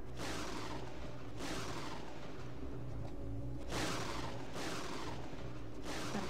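Thunder effect in the Kyrandia 3 video game: repeated rumbling cracks and bursts of broad noise, four distinct rolls spaced a second or two apart over a low continuous hum, with no speech.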